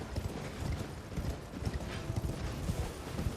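Hooves clop in a fast, steady galloping rhythm, close and continuous, as a horse runs through the world of the video game Elden Ring, with an ambient game soundscape underneath and no one talking.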